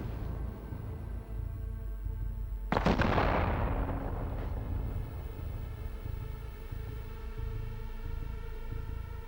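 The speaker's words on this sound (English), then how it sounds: "They both have rocket launchers. They're gonna double rocket." A loud rocket launcher explosion in a video game, one sharp blast that booms and fades over a couple of seconds, then a second fainter impact, over a steady low background rumble.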